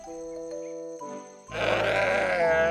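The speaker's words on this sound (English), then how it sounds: "Bighorn sheep." Cartoon bighorn sheep bleat: after a quiet musical tone, a loud, wavering bleat enters midway and holds to the end.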